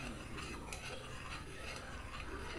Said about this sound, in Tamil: இப்போ வச்சுருக்கிற ரவியை வறுத்து வச்சுக்கிற ரவியை நம்ம இதில் போட்டு கிளறிக்கலாம்.